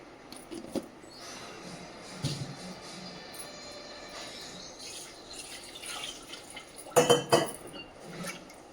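A pressure cooker is rinsed out with water, bringing soft drips and splashes, scraping, and metallic clanks of pot and utensils, with a louder burst of clattering toward the end.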